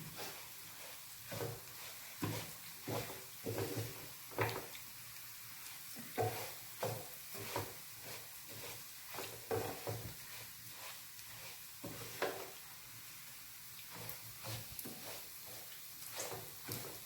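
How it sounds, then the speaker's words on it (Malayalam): Ingredients frying for Thalassery mutton biryani, heard as a faint background sizzle broken by a steady series of soft knocks and scrapes of a utensil in the pan, distant and quiet. "കുറച്ച് വറുക്കണം"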